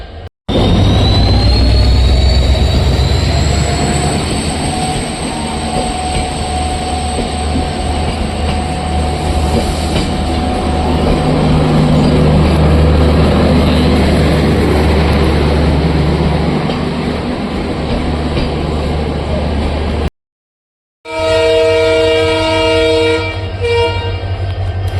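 The Gomteswara Express passes another express train at a crossing, with a loud, sustained rumble of wheels and carriages and a long horn blast near the start, then a brief drop-out and a sharp clattering pass at the end.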